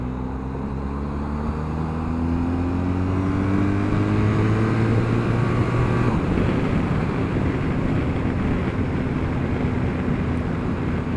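A 2021 BMW R1250GS Rally SE motorcycle with a boxer engine accelerates on the road, its steady engine note rising in pitch as it pulls through the revs, heard continuously with wind noise and no talking.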